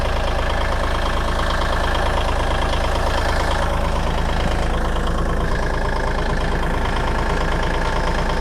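A heavy tractor engine idles steadily with the PTO engaged, a constant low, throbbing rumble with no change in pace and no talking.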